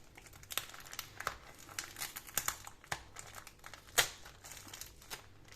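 A well-wrapped parcel is being opened, its packaging crinkling and rustling up close in irregular, quiet bursts with sharper crackles now and then, with no talking.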